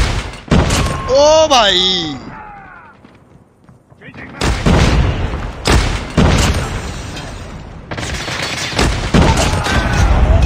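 Call of Duty Mobile gunfire, sharp loud bursts of automatic shots and booms, dense and close, broken by a short quiet gap, mixed with a game voice and a player talking.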